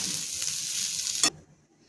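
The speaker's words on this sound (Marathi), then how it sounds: "आता ह्याच्यामध्ये मीठ घालून घेऊया आणि व्यवस्थित परतून घ्यायचे आपल्याला" Spices and salt sautéing in a pan, a bright steady sizzle with light stirring and a sharp scrape near the end before the sound suddenly drops away to near silence.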